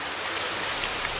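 Steady, dense hiss of rain falling, continuous and fairly loud with no voices, at a rural school in Ghana.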